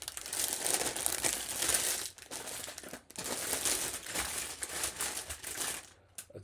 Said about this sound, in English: You can listen to this sweet crinkle.